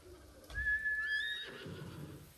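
A horse in the Ghost of Tsushima video game gives a loud, clear whinny on arrival, rising and falling for about a second, followed by softer snorting and hoof noise.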